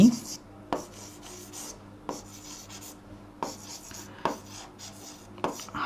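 Chalk writing on a board during a grammar lesson, irregular tapping and scraping strokes in short bursts, close and moderately loud, with brief pauses between them.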